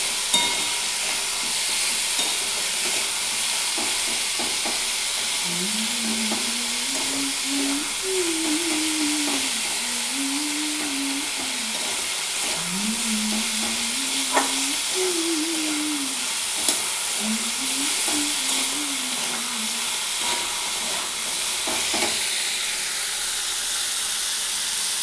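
Food frying in a pan gives a steady broad sizzle and hiss that runs throughout, with a faint wavering tone and a few light clicks on top, and no talking.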